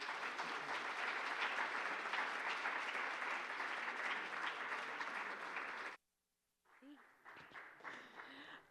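An evening lecture audience applauds to welcome the speakers, a dense sustained clapping that cuts off abruptly, followed after a brief silence by someone speaking.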